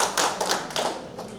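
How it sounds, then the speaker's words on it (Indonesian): Members at an extraordinary PPTI congress session applaud its opening, a short burst of busy overlapping clapping from a room of people, steady and moderately loud without voices. "Tepuk tangan Ibu."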